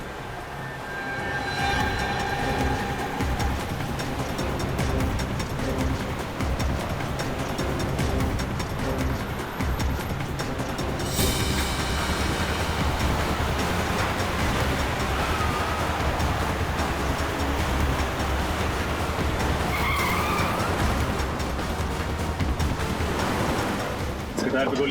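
A car speeds along in a chase, its engine and road noise forming a loud, unbroken roar with voices talking over it.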